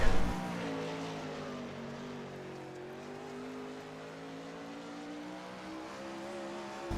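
A 360 wingless sprint car takes a qualifying lap at Lernerville, its engine note droning and shifting pitch as it runs around the track, loud and alone without voices.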